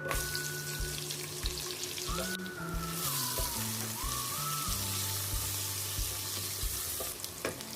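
Two small finely chopped onions fry with asafoetida in a pan for an edamame, broccoli and potato biryani, giving a steady, close sizzle that runs throughout beneath melodic background tones.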